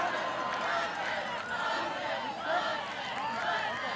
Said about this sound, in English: Oh, and the crowd is not happy about that. You can kind of hear those boos coming in.